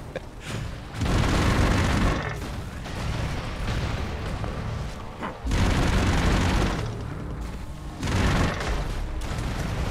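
Bombs explode in the side-scrolling action game Broforce, heavy booming blasts that come in loud repeated bursts, each one followed by a rumbling tail.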